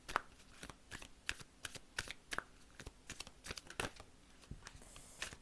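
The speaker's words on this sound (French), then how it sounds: "Il y a une carte qui est tombée." A tarot deck is shuffled by hand in quick, papery riffles and slaps, close and fairly quiet, as a card slips loose from the deck.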